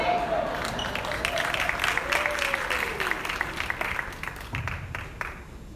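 Banquet crowd clapping in rhythm during a hall of fame dinner, a mass of hands beating in near-regular bursts, with voices calling out over the clapping.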